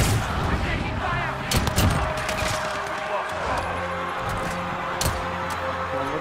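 Gunfire in a shooter video game, heard as sharp repeated shots over a dense, busy backdrop of game noise, with louder bursts near the two-second mark and around five seconds, and voices talking throughout.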